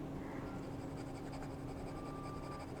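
A purple Hongdian fountain pen with a fude nib, inked with Noodler's Purple Mountain Majesties, scratches steadily across paper, a faint close continuous writing sound against a constant low hum.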